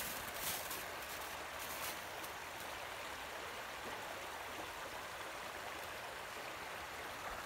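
A creek frozen over on top still runs beneath the ice on a cold day, giving a steady, close wash of rushing water that holds evenly throughout with no voices.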